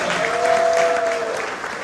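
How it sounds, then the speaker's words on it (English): Brief burst of audience applause at a school graduation ceremony, steady dense clapping from a crowd, with a faint sustained tone running through the middle. "thanked them with a round of applause"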